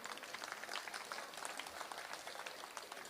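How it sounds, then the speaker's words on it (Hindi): An audience at a Hindi poetry stage show claps in applause, a dense spatter of hand claps held at a faint, distant level without a clear rise or fall. "एक बार ताली बजा करके मुझे मन दें"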